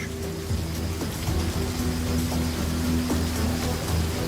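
Steady rain falls across the open savannah grassland, a continuous close hiss of drops with a few sharper patters, set against a soft, sustained tonal backdrop.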